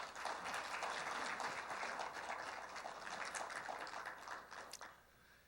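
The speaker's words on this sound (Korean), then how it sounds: "뜨거운 박수로 환영해 주시기 바랍니다." Audience applause welcomes the chairman of the Korea Software Association Council onto the stage at a software industry protection awards ceremony, a dense, fairly distant clapping that holds steady and then tapers off near the end.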